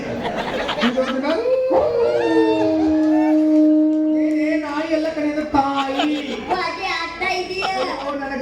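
A person's voice imitates a dog howling with long, wavering drawn-out tones, mixed with chuckles and lively talk around it.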